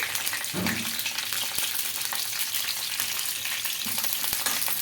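Green chili pieces fry in hot oil for a mint chutney, a steady dense sizzle with occasional stirring clunks close by.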